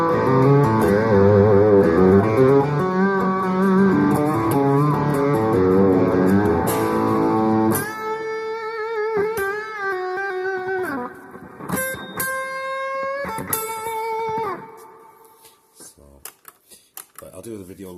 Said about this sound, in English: there's a slight hint of a delay coming through, especially when you take the reverb high right up